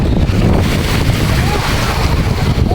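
A boat carries passengers between islands off Boracay, its steady engine drone and water rush buffeted by loud wind across the microphone, with a voice faintly under the noise.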